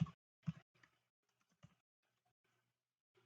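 Quiet typing on a computer keyboard: a few soft, separate key clicks and taps spaced irregularly across a near-silent background.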